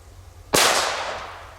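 An old Super Cracker NWP firecracker goes off in a single sharp, loud bang after a short quiet lead-in, its broadband blast trailing off over about a second.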